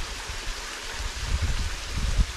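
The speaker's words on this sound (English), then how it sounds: "from the water stream." Water from a stream flowing into a small pond at Palomar Mountain, California, a steady close rushing trickle with low wind rumble throughout.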